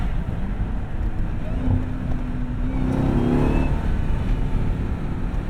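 A 2026 Dodge Durango SRT Hellcat engine rumbles and revs up, heard from inside with the windows down, the roar swelling in the middle and holding steady against wind noise.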